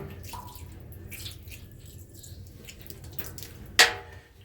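Water from a bottle trickles into a stock tank bathtub in a tiny house build, with quiet scattered drips and a sharp splash near the end.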